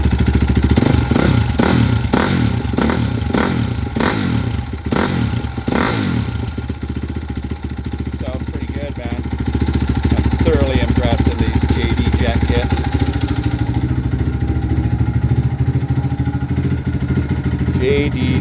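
A 2006 Honda CRF250X dirt bike engine runs loud and close with the muffler cone pulled out, a raw, blatting exhaust with sharp revs early on settling into a steady idle, while someone talks over it.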